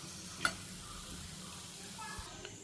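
Bitter gourd fries in a pan with a steady, low sizzle and faint stirring, plus one brief utensil clink near the start; no voices.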